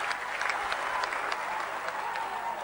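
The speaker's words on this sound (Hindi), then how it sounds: "ताली एक बार जोरदार हो जाए हमारे भाई चक्रवर्ती के लिए।" Sustained applause from a large audience at a Bharat Swabhiman Andolan gathering, a steady dense wash of clapping with a few sharper claps, fairly loud and continuous throughout with no speech over it.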